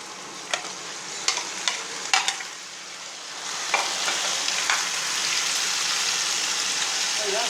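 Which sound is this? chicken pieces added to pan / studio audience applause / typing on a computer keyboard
chicken pieces added to pan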